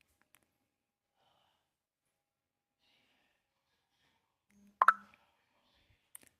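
Garlic dropped into a hot pan while cooking a pea and potato curry gives one short, close plop and sizzle burst partway through an otherwise near-silent stretch.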